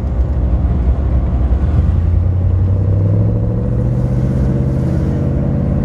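A 1963 Chevrolet Impala convertible's engine and exhaust rumble steadily and loudly up close, with a low throaty drone that swells slightly as revs climb midway, no voices over it.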